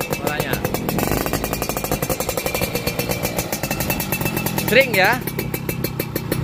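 A restored 2002 motorcycle engine idles close by with a steady, rhythmic putter and a brief rise in pitch near the end, while someone talks over it.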